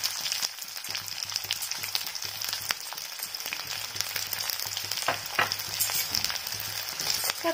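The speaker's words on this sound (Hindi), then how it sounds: "प्याज टा गोल्डन ब्राउन हबा पर्यंत भाजी नबा।" Chopped onion fries in hot oil with cinnamon in a pan, a continuous crackling sizzle like light rain, heard close and fairly soft with occasional stirring clicks and no talk.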